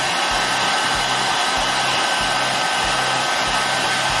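An electric blower fan, cranked to high to melt Sno Seal, roars with a loud constant hiss and a faint regular low pulsing underneath, alone without talk.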